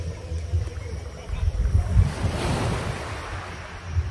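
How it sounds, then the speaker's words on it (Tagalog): Sea waves wash onto the beach at Sadayo Beach Resort in Batangas, a soft rolling surf with a swell building midway, mixed with gusts of wind buffeting the microphone. "Dito kami sa tabing dagat."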